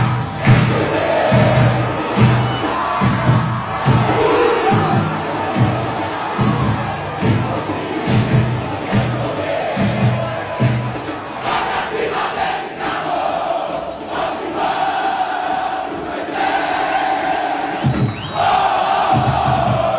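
CRB football supporters in a packed stadium at an Alagoas state championship match chant in loud rhythmic bursts with drumming, then a sustained roar of cheering and crowd noise fills the stands.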